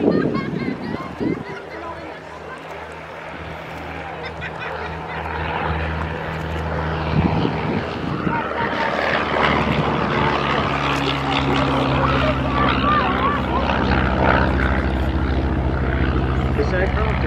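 A Miles Magister two-seat propeller monoplane trainer passes at an airshow, its engine drone rising and swelling over the whole stretch amid crowd ambience, with a commentator's voice over the public address.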